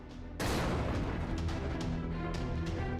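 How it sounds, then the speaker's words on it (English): A cannon in the Fate/Grand Order game fires one sudden loud boom, followed by a rumbling, crackling tail of smaller blasts and debris that stays loud to the end. "Cannon ready!"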